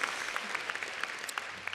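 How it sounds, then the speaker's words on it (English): Brief, scattered applause from a graduation audience at a commencement ceremony, light and somewhat distant, with uneven claps fading in and out rather than building into a full ovation. "ooh, I got a clap."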